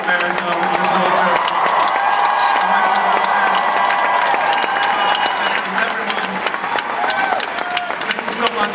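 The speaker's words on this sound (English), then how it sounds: "A huge round of applause for Captain America, Winter Soldier." A large crowd at a Comic-Con panel breaks into loud, sustained applause and cheering, a dense roar of clapping and shouting that holds near-constant for several seconds, with voices mixed in.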